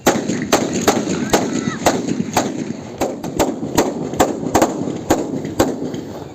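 Ceremonial rifle volleys fired in sequence at a Republic Day parade on an open parade ground, sharp cracks repeating roughly every half second over a steady background of crowd and ambient noise.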